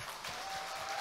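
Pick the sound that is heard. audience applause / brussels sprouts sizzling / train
audience applause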